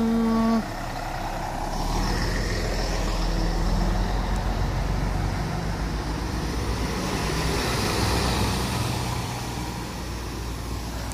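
Steady street traffic in a neighborhood around the Big Buddha, with cars and trucks rolling past at close to medium range in a continuous broad rumble, an air-brake hiss and faint beeps mixed in, and no talking.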